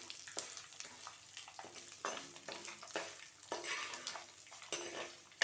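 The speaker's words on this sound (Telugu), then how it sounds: "మెంతులు వేగుతున్నాయి కదా, ఆవాలు" Fenugreek and mustard seeds frying in hot oil, crackling and spitting in irregular bursts while a spoon stirs and scrapes the pan, close and moderately loud.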